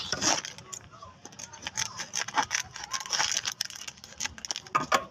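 Scissors snip and cut into a LOL Surprise package, with the plastic crinkling and tearing in short, close, irregular bursts, while a voice is faintly heard in places.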